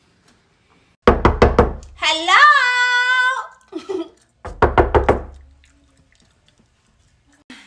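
Two bursts of rapid knocking on a door, about four sharp raps each, separated by a high-pitched voice; a short laugh follows.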